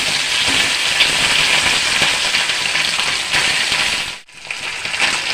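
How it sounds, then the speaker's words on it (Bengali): Fish sizzles and spits in hot oil in a pan, a steady, dense frying hiss that runs almost unbroken, dipping briefly near the end before picking back up. "মাছগুলোকে ভাজা করে নিই ভালো করে।"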